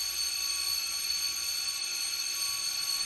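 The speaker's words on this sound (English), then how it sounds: "Out of nowhere, the fire alarm goes off. A shrill, blaring sound." A shrill, steady fire alarm rings in a school scene of the game 9-nine-, a continuous high-pitched electronic tone holding at even loudness throughout, alone without voices.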